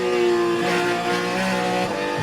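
A race car engine in a racing video game, held at a steady high drone with strong harmonic whine that shifts slightly in pitch as the throttle is fed in, continuous and close.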